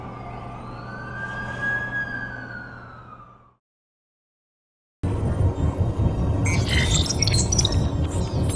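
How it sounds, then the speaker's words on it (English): An ambulance siren wails with a rising and falling tone, fairly loud at first and then fading out, followed after a silent gap by busy street noise. "That's the ambulance I called."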